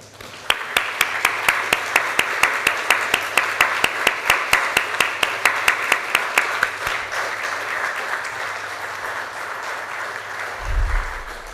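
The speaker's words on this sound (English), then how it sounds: "Would all those people please stand, and let's give them a round of applause." A church congregation applauds during a Sunday service, with a few sharp, evenly spaced claps standing out over the crowd at first, then softer, looser clapping that thins out before a low thump at the end.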